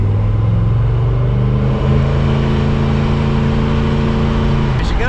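A Ford Model A car drives down the road, its engine a steady, loud, low droning hum that holds an even pitch throughout, close up, with a brief higher whine near the end.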